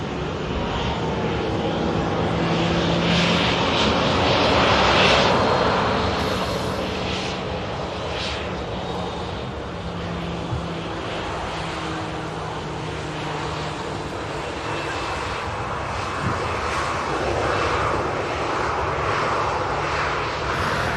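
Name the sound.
Pegasus airliner arriving at Manchester Airport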